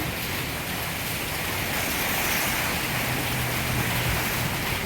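Heavy rain pours down in a dense, steady roaring hiss that fills the whole clip with little variation and no voices.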